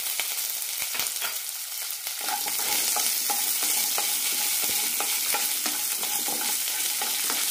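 Red chillies, garlic, shallots and coconut pieces sauté in a pan, their steady sizzle joined by repeated scraping stirs that grow louder and more regular partway through, heard close up.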